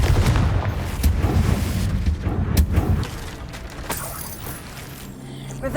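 Confringo blasting spell explosions in Hogwarts Legacy, a video game: heavy, close booms and crackling blasts hit repeatedly for about three seconds, then fade to a quieter rumble.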